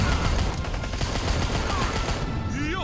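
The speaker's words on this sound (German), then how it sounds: "Jetzt habe ich auf diesen Stein, auf den Fels da vor mir geschossen. Alles ist explodiert." Loud, rapid gunfire crackles in a continuous burst in the Rambo video game, ending with a blast and swooping game effects.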